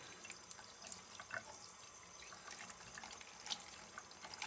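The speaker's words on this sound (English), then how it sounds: "I'll put some cool water on them." Cool tap water runs steadily over rubber stamps in a sink, a soft continuous splash and trickle held at low level throughout with no talking.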